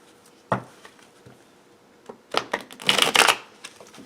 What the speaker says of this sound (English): Oh, they really shuffle very well that way.